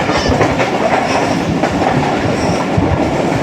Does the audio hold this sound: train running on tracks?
yes